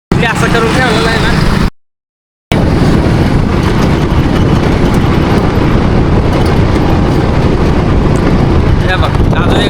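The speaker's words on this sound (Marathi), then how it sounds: "हे बघ अजून एक गाडी आहे." A train rumbles past at close range, its loud, continuous broadband rattle and roar filling the clip and broken by one brief cut to silence.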